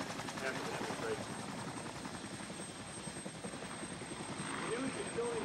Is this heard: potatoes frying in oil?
no